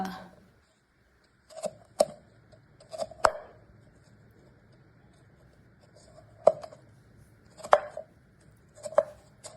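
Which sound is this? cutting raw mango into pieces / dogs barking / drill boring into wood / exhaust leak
cutting raw mango into pieces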